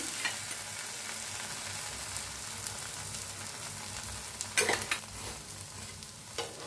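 Makka dhapata, a maize flatbread, roasting in oil on a pan: a low, steady sizzle runs throughout, with a few brief scraping or turning sounds partway through.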